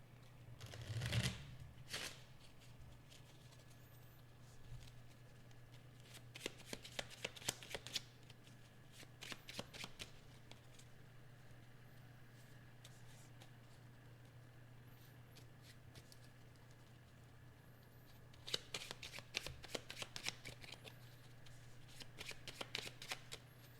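A tarot deck is shuffled in quiet bursts of riffling and card flicks, several separate rounds with pauses between, close and soft against a low steady hum.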